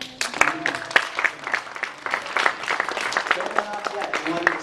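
Applause from an audience at the Nebula Awards nominees reception, a dense burst of clapping from many hands that rises and continues steadily throughout.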